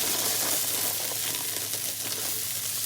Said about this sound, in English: I'm just gonna add the tomatoes that I washed, and I'm gonna cook these until they start to burst open